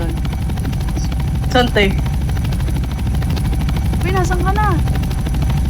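A helicopter in the Roblox game keeps up a loud, steady rotor drone throughout, with high chirping game sounds over it and people talking under it.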